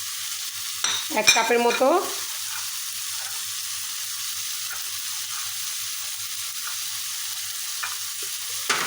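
Vegetables, including long beans and chopped carrots, hit a hot pan for chicken fried rice with a brief burst of stirring and clatter, then settle into a quiet, steady sizzle; someone speaks briefly near the start.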